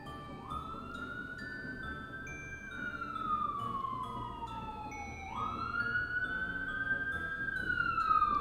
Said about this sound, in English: Y'all hear all these sirens?